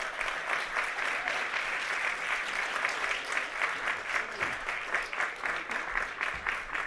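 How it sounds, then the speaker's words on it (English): An audience at a supply-chain conference plenary applauds steadily as panelists walk onto the stage, a sustained wash of clapping hands from a large crowd with no speech over it. "They will cheer even as you walk onto the stage."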